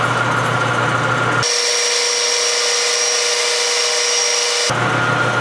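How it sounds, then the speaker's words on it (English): A metal lathe turns at 430 RPM while machining a banjo bolt, making a continuous close cutting hiss and whine that changes tone partway through and returns at the end, with no voices. "I got it at, 430 right now, 430 RPMs"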